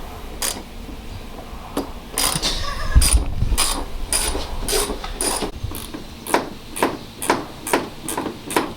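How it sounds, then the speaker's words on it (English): A ratchet removes bolts from the front end of a VW T5 during a facelift, loud close rapid clicking in bursts that settle into a steady rhythmic series of ratchet strokes. "Just taking these bolts out."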